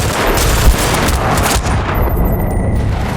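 Dense gunfire in the video game Battlefield Bad Company 2, a loud continuous barrage of shots and rattling bursts filling the whole moment with no pause and no speech.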